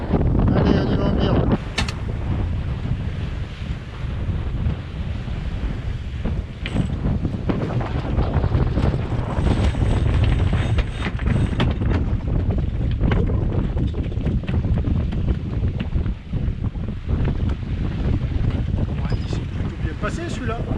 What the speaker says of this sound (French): Là on tire des bords dans le chenal, dans le vent de face.